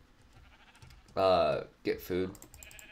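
A sheep in a hardcore survival video game gives two loud, wavering bleats in quick succession, over soft keyboard tapping and someone speaking.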